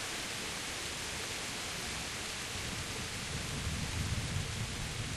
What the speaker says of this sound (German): Der Regen nimmt zu, das Gewitter auch.